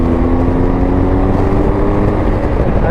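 Steady, loud engine drone of a BMW R1250 GSA motorcycle pulling hard in fourth gear on a back country road, with continuous wind rush and no talking.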